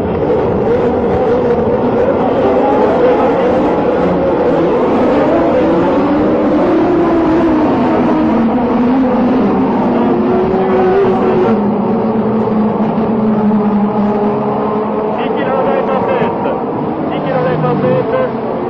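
Formula 1 cars roaring away from the start of the 1975 Austrian Grand Prix, a loud, continuous massed engine drone with rising and falling pitch as the field pulls off, under an excited commentator's voice.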